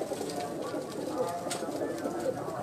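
Pigeons on a rooftop loft give low, soft cooing over a murmuring background, faint and continuous throughout the short stretch.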